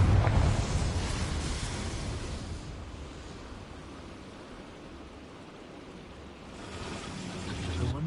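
A Confringo fire spell explosion in Hogwarts Legacy bursts loudly at the start, then decays into a long hissing, crackling rumble that fades and swells again toward the end.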